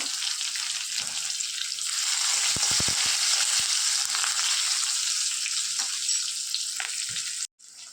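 Onion frying in a pan with asafoetida for marvaay sukka, a steady close sizzle with a few brief stirring clatters partway through and a sharp dropout near the end; no voices.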